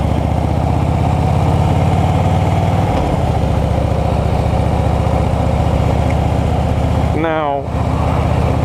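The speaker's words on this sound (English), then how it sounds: "See how it chugs when I do that without giving it any gas?" A manual car's engine chugs and labors as the clutch is let out slowly without any throttle, a loud, steady low rumble up close with a brief voice near the end.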